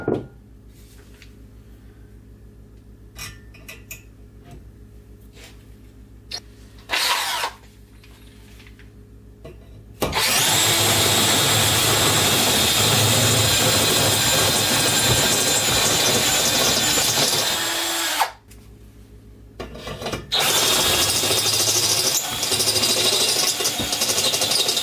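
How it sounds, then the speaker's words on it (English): A Dremel rotary tool whines loudly and continuously while smoothing and boring out an AEM weldless bung on an RX7 exhaust down-pipe, running in two long bursts separated by a brief pause, after quieter handling noises. "Dremel tool. I just pretty much smoothed out the sides, bored it out a little bit."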